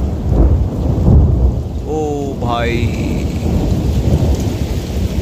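A mountain storm brings heavy, continuous rain and rolling thunder, loud and close throughout, while a man briefly calls out and a short rising tone cuts through the downpour.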